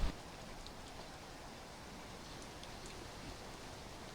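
Rain falls in a soft, steady, even hiss, faint and continuous throughout, with no voices.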